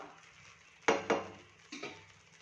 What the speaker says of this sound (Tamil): நல்லா கொஞ்சம் கொஞ்சமாக சேர்த்து கலந்து விட்டுக்கோங்க.